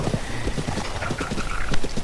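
Hooves clip-clop at a steady trot as a horse is ridden in a Zelda video game, the rhythmic footfalls running continuously throughout with no talking.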